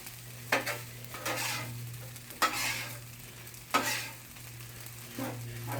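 Chicken fried rice being stirred and turned in a sizzling pan, with several scraping strokes of a utensil over a constant frying hiss and low hum.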